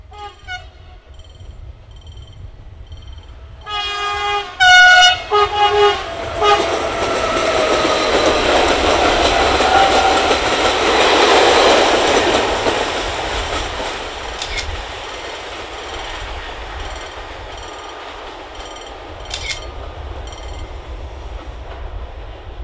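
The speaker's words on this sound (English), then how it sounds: "almost missed this Series 47 locomotive" A Series 47 Eurosprinter locomotive in Portugal passes close by, sounding two sharp horn blasts before a long, loud broadband roar and clatter of wagons that slowly fades, with a couple of brief squeals near the end.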